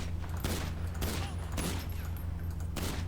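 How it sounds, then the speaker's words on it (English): Gunfire in GTA Online: repeated broadband bursts of shots ring out at roughly half-second to one-second intervals over a steady low rumble, with no talk. "Okay, maybe he's shooting through the vents."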